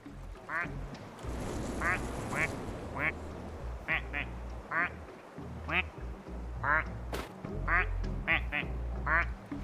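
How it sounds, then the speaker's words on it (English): Repeated quacks from a plastic duck in the video game Placid Plastic Duck Simulator, about ten short calls spread irregularly over a steady musical game background, with some talking mixed in. "Just want to check for special quacks."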